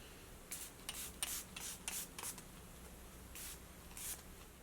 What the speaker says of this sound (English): it says to wait for the setting spray to dry